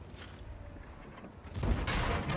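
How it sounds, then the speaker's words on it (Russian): A tank cannon firing in a tank video game, a muffled low rumble of battle noise followed by a sudden heavy blast and its rolling echo. "Отличный выстрел"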